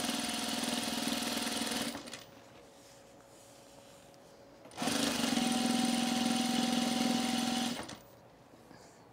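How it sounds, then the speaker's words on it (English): A sewing machine edge-stitches canvas cargo shorts in two runs of steady, rapid mechanical whirring, each about three seconds long, separated by a quieter pause, and the motor hums loud and close. "And now I'm just going to edge stitch on both sides"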